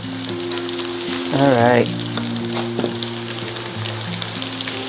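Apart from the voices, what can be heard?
tofu frying in a pan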